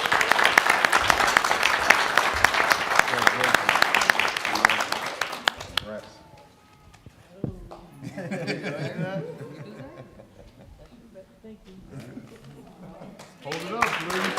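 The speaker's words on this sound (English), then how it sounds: "let's give her a huge round of applause." Audience applause at a school district Board of Education meeting, loud sustained clapping for about six seconds that fades out, followed by scattered chatter, chuckles and voices in the room.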